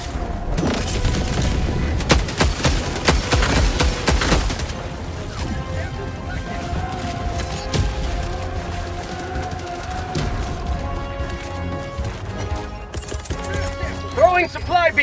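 Heavy gunfire and explosions in Helldivers 2 on Helldive difficulty, with dense rapid shots and booms early, then continuing combat noise beneath game voice lines and effects.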